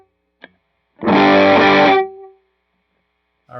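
Electric guitar on its neck pickup through a Line 6 HX Stomp, with treble adjusted to match: a single loud distorted chord rings for about a second, then fades quickly, with brief picking noises before and after.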